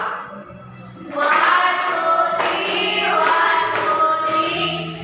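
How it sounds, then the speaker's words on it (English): A group of people does a drum clap together, with several bursts of rhythmic clapping and stamping, loud and close, with voices chanting and cheering among the claps. "So, give us Franco a drum clap."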